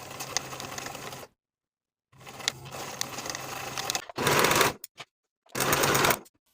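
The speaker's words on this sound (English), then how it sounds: "Sew the plackets in place with a 3/8 inch seam allowance" Sewing machine stitching fabric plackets with a 3/8 inch seam allowance, heard as several separate runs of steady close whirring with short pauses between bursts, the final two bursts louder.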